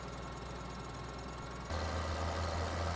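A tractor engine in Farming Simulator 2013 idles with a steady drone, then revs up to a louder, deeper rumble halfway through and holds it, with no talk.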